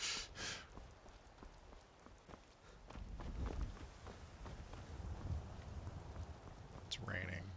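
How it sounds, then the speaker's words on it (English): Rain falls steadily in the video game Skyrim as a broadband hiss, with footsteps crunching through the middle and a brief tone near the end. "It's raining."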